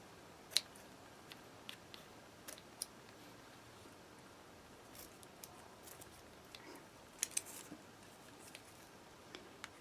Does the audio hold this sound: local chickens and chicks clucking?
no